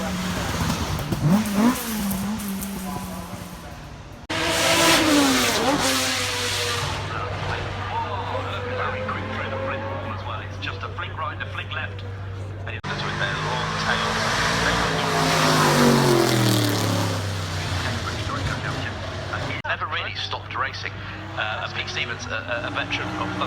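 2.3 litre racing car at the Goodwood Festival of Speed screaming past at high revs, loud engine wails rising and falling with gear changes and pass-bys, with commentary voices over the top.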